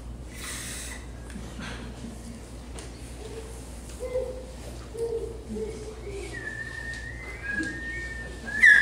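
Short, high whistled notes come in brief bursts over soft breathing and low background noise, growing a little louder toward the end.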